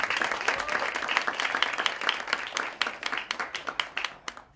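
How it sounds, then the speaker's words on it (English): An audience at a TED panel gives a round of applause: dense, steady clapping that thins into a few scattered claps at the end, moderately loud, with no speech over it. "So just give everyone a round of applause."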